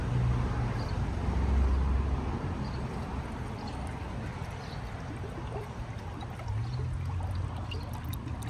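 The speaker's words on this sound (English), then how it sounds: "Alright, adding fresh coolant." Fresh coolant poured into a 2021 Subaru WRX STI, a continuous gurgling liquid stream that stays fairly steady for the whole stretch, without any talking.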